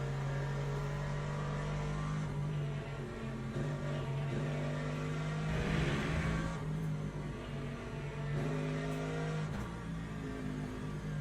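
LMP3 prototype race car engine in the Le Mans Ultimate racing game, a steady droning engine note holding high revs with slight rises and dips throughout, faint and continuous with no talk.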